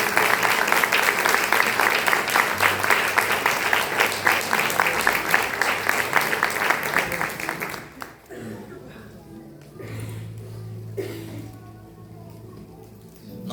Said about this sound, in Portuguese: Se você puder aplaudir o nome do Senhor Jesus,